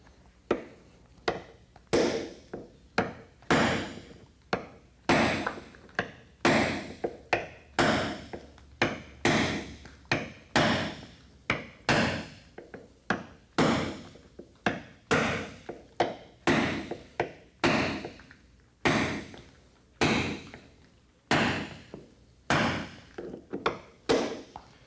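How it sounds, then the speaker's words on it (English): Steel chisel blows separating a glued fiberglass body panel from a 1990s Corvette, a steady series of sharp, loud impacts and cracking knocks repeating roughly every second, close up with no talk. "So bear with us here while we chisel this sucker off."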